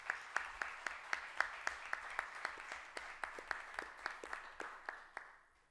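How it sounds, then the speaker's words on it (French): An audience at a French-language university ceremony applauds a guest. Individual claps ring out in a steady, moderately paced pattern, faint and slightly distant, tapering off at the end. "On peut l'applaudir"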